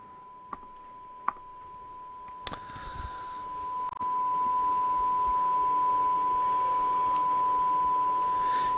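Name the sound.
sine wave tone from a speaker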